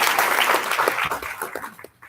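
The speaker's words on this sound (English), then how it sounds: "Round of applause." An audience at a candidate training event in Indianapolis gives brief, dense applause that fades out within about two seconds.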